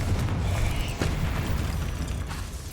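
A Confringo spell explosion in Hogwarts Legacy: a rumbling, crackling blast with a sharp hit near the middle, debris-like clatter fading away, loud and alone.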